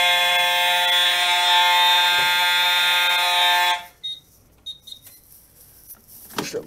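A fire alarm panel test of an i3 smoke detector: a loud, steady electronic alarm tone sounds for about four seconds and then cuts off, followed by quiet room noise with a few faint beeps and clicks.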